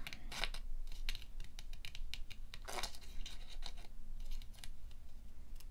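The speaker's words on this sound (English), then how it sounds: "I've started fussy cutting now." Scissors fussy cutting paper for a handmade journal pocket, a run of close, crisp snips and scratchy blade slides in irregular rhythm with short pauses, alone in a quiet room.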